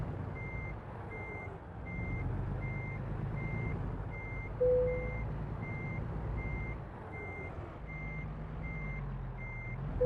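A simulated truck reverses in American Truck Simulator, its backup alarm beeping in a steady, evenly spaced series over a low engine rumble, with one brief higher tone midway.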